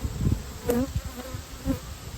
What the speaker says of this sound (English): I do see a lot of bees in here, though.